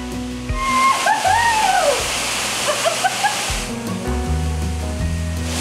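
Steady broadband rush of a waterfall on a tropical island, roaring close by and continuous throughout, with faint chirps of birds or voices over it.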